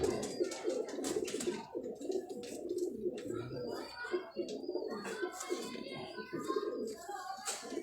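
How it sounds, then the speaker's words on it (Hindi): Ferozpuri fancy pigeons coo in low, rolling murmurs close by, overlapping in a steady stream with occasional wing flutters and handling sounds, while someone speaks softly at times. "ये एक और कबूतर देखिएगा।"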